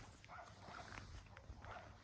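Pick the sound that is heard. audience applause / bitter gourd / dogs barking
dogs barking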